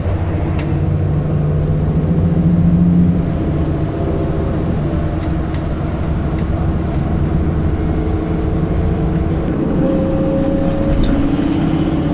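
A continuous low rumble of a rail vehicle moving nearby, with steady mechanical hum and occasional squeal tones for a dozen seconds.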